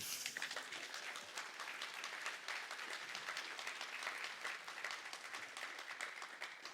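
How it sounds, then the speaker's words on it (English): Sustained applause from a seated audience honoring award recipients at a university College of Arts and Sciences Hall of Fame ceremony, a dense, even rush of many hands clapping at a distance. "please join me again in one more round of applause for all 7 of the honorees."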